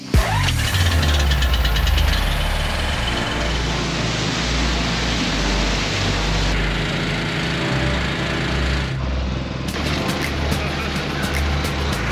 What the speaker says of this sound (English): This is a big machine. It's gonna make a lot of noise.